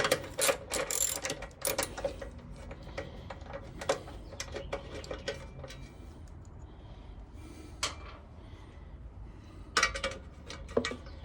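A hand ratchet works loose a 10 millimeter bolt on the chain guard support arm of a 1986 Honda CT110, giving close, dense clicking in busy spurts that later thin to scattered clicks and metal taps, with no talking.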